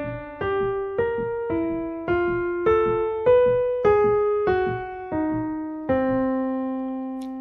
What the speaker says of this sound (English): So this row sounds like this.